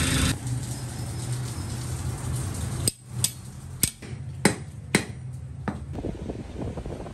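A running Suzuki Alto 660 engine hums steadily, joined by a series of sharp metallic knocks and clicks from the fan belt and adjuster area, irregular and close.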